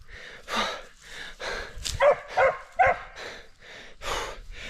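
Hunting dogs bark during a boar hunt, a string of loud, close barks and yelps in an uneven rhythm, with heavy breathing and snorts between them and no talking.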